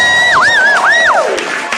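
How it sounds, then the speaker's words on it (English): A high, swooping whoop rises and falls over crowd cheering at a drag show livestream, loud and close, easing off into a softer murmur of the audience. "Please applaud for the neon sign."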